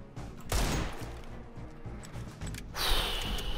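Desert Eagle pistol shots in CS:GO ring out as two loud, close blasts about two seconds apart, with quieter game noise between them and a ringing tail after the second shot.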